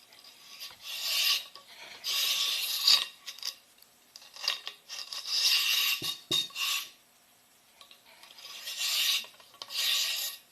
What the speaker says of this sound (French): pas avoir peur de gratter plusieurs fois